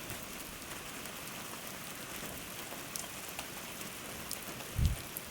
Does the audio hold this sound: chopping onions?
no